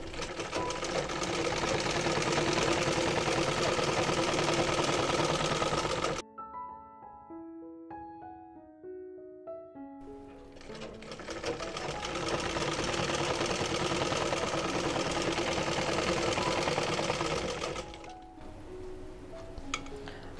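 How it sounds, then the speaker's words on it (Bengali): A sewing machine runs in fast bursts, stitching elastic into the waistband of ladies' pants: a loud, close mechanical whir for several seconds, a pause with quieter clicks and soft tones, then another long run of stitching that stops near the end. "তো এই সেলাইটা কিন্তু করতে হবে আপনার কাপড়ের মধ্যে"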